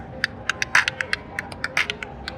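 Rapid random-pitched percussive particles from a WMD Fracture crowd-percussion synthesizer module, a scattered pitter-patter of short bright clicks and claps, uneven in rhythm, moderately loud with no talking.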